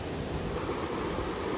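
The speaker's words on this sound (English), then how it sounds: "The water is really bouncing from the top area going downwards." Water pours and splashes down from a height outdoors, a steady, loud broadband rush like surf or a waterfall, continuous and close, with wind buffeting the microphone and no talk.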